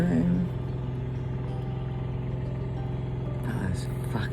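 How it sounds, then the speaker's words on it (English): Truck compressors hum loudly nearby at a roadside camp in outback Australia, a steady droning engine-like rumble that fills the scene throughout, with a brief rattle near the end. "those fucking noisy compressors on the trucks"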